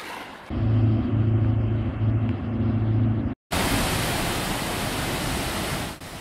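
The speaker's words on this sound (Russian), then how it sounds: "Такие водопады, как здесь, в Европе мало где можно увидеть." A waterfall in Scandinavia gives a dense, continuous rushing roar after a brief cut, preceded by a lower, humming rumble.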